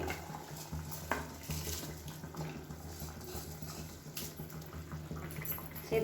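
Soaked rice pours into a pot of simmering vegetable masala, a steady wet, sizzling wash with faint clinks of a utensil against the pot, close and continuous.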